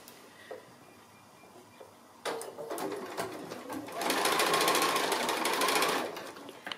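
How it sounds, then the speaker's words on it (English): A sewing machine stitches the side seams of a fabric project made from 2 1/2-inch strips, starting after a quiet pause and running in a steady, rapid whir that grows louder and denser before stopping, heard close by with no talking. "So I've gone and sewn my side seams"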